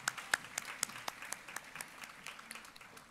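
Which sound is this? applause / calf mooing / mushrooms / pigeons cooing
applause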